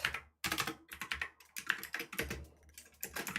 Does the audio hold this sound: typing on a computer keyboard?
yes